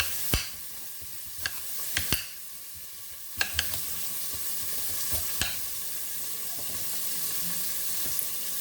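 Bacon sizzles steadily in a pan, a loud hissing bed throughout, while a knife chops rutabagas with sharp, irregular thuds and clicks on a cutting board up close.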